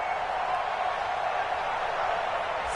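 A home stadium crowd at a football game gives off a dense, steady roar of cheering and murmur. It holds evenly without any clear peaks.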